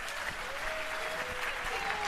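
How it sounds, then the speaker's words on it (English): An event audience gives a big, sustained round of applause for the co-chairs, close and even throughout, with faint voices and a few cheers mixed into the clapping. "We now also need to have a big round of applause for Dan and Corey, the co-chairs of the event today"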